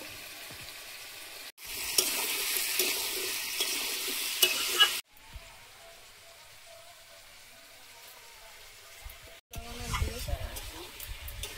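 Turmeric powder and slit green chilies fry in a pan, heard as a close hissing sizzle in several abruptly cut sections, with stirring and a voice speaking at times.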